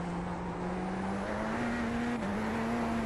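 A Radical SR10 race car in the iRacing sim game holds a steady high engine drone that climbs slightly in pitch as the inside rear tire spins up in third gear, with a brief dip near the end, loud and close.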